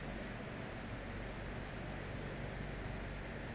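Steady, loud drone of an Embraer EMB-110 Bandeirante twin-turboprop engine in a flight simulator during a climb, a continuous broadband roar with a faint high whine, heard alone.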